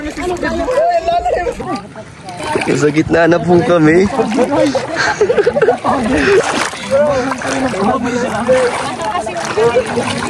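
A boat splashes through open water at sea, with steady sloshing and spray running loud throughout while several people talk and call out nearby.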